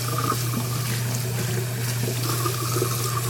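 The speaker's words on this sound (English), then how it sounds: "So you want to rinse it again with hot water." Hot water runs steadily from a kitchen tap while greasy dishes are rinsed by hand, a constant splashing stream with low mechanical hum beneath.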